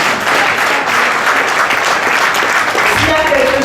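Loud, steady applause fills a gala evening honoring exemplary Beninese couples, a dense wash of clapping sustained throughout with a voice briefly rising near the end.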